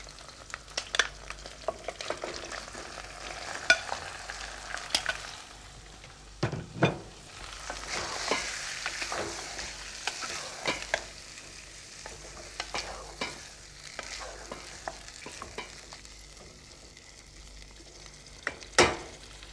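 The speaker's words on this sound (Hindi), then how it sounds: "अब इस चिकन को तेज आंच पर अच्छी तरह से भूनना है हमने" Marinated chicken pieces fry over high heat in a pan with ginger paste. A low, steady sizzle runs under repeated scraping stirs and occasional utensil clacks.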